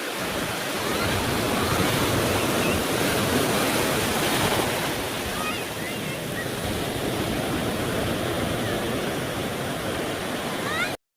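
Surf washing onto a beach, a steady broad roar of breaking waves that stays loud and continuous throughout, with no voices.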